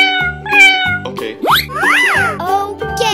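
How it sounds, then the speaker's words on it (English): Cartoonish cat meow from an animal-sound transformation game, a rising and falling wail over bouncy musical tones, loud and close with other playful synthetic sounds around it. "Cat."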